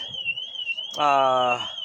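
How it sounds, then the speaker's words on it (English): An electronic alarm beeps behind someone talking, first a steady high tone, then a harsher buzzing burst of about half a second that fades back to the thin tone. "there goes an alarm."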